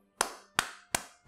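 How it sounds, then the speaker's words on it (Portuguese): Four sharp, close hand claps sound alone as a clapping effect, evenly spaced about a third of a second apart, each with a short decaying tail. "É só palmas pra ela. Palmas pra Konami"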